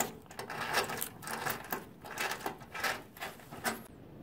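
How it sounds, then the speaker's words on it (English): Quiet, uneven clicking and light metallic ticks from an M6 screw with two washers being threaded into an M6 rivet nut on a Foxbody fender flare install. Close and faint, with no talking. "I put two washers in here just to help it turn, and you're gonna thread your screw in there."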